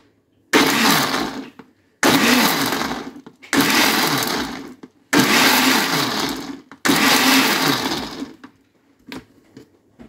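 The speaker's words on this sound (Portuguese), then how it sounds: "Eu acho que precisa bater ainda mais um pouquinho" Blender crushing pomegranate seeds for juice, loud whirring motor in five short pulses of about one to two seconds each with brief pauses between, close and alone without talk.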